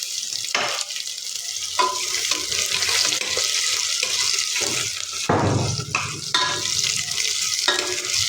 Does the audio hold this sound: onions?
yes